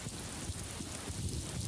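Light rain falls steadily outdoors, a soft continuous patter on surfaces with a dense, even hiss and no voices.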